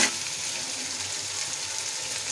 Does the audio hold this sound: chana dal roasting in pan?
yes